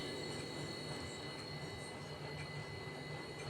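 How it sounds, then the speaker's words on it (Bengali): Small mourala fish sizzle steadily in hot mustard oil in a kadai over a gas flame, a constant close hiss of frying with no talk. "মাছগুলোকে আমি কড়া করে ভেজে নিচ্ছি।"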